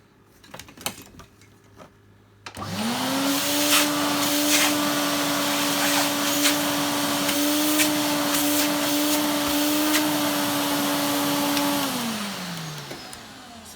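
A vintage Electrolux 347 Hoovermaster vacuum cleaner motor starts up and runs with a steady, loud, even whine for about nine seconds, then winds down at the end. No one speaks over it.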